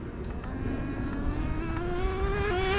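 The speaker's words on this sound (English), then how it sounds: "We're just doing a couple passes, warm it up." A Traxxas JATO 3.3 nitro RC car engine, running rich and warming up, whines steadily with its pitch rising as it revs, then jumps as the two-speed transmission shifts near the end.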